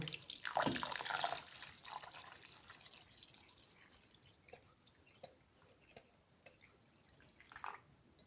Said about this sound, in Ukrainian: доливаємо водою.